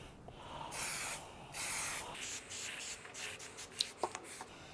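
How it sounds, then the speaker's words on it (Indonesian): Aerosol developer sprayed evenly over a weld for penetrant inspection, two steady hissing bursts of about a second each followed by faint handling clicks, fairly close and quiet, with no talk. "setelah itu kita semprot developer dengan jarak kurang lebih 30 cm secara merata ya"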